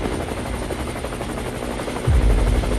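Helicopter flying in a comic audio drama, a steady loud rotor chop with a deep thump swelling near the end.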